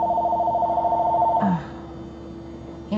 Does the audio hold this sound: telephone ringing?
yes